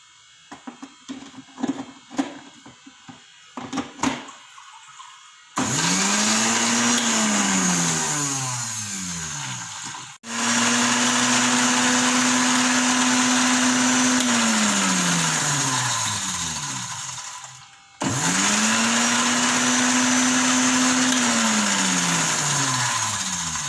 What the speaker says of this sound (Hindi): अब मैं इनको हल्का सा ब्लेंड करूँगी।